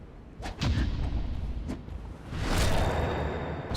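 Skeletons in Dark Souls swing scimitars in quick, sharp swishes, with a few whooshing strikes and thuds spread over a few seconds against a low, rumbling game background.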